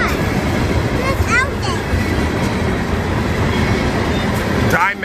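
A train rolls past close by with a continuous heavy rumble and brief high wheel squeals, voices chatting over the noise throughout.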